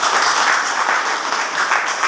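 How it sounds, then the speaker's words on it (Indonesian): Classroom applause from students at a senior high school, a short burst of dense, even clapping that fills the whole moment at moderate volume with no break. "Ya, tepuk tangan."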